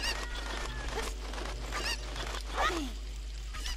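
Cuckoo, the chicken in Zelda: Ocarina of Time, clucking in squawky honking bursts several times over a steady low game hum, moderately loud and close, with no talk.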